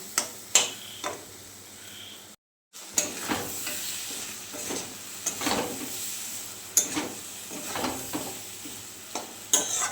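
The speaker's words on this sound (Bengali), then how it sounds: "দিয়ে ছড়ার ডালটা ভেজে নিচ্ছি" Chana dal frying in a pan with bay leaf and chilli, a steady sizzle broken by repeated scrapes and clinks of a stirring spoon and one brief gap of silence partway through.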